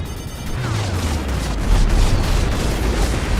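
A cruiser blows apart after torpedo hits in the space combat game Strike Suit Zero: a deep, loud rumbling explosion that swells and lingers for several seconds with crackling debris over it.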